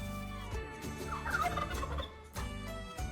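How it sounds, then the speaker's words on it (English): Turkeys on a farm gobble in a rapid, warbling burst. The calls are moderately loud, with steady background noise before and after. "A turkey is a big bird."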